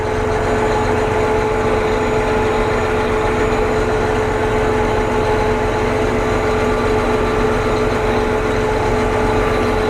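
A Kooima Ag Trner compost turner's drum runs behind a tractor, a steady, loud mechanical drone with a constant low engine hum and no breaks.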